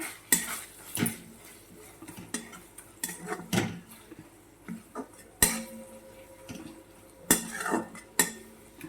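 A metal spoon scrapes and clinks against a pan in irregular strokes as thick garlicky cluster bean curry is stirred, close and clear, with no talking.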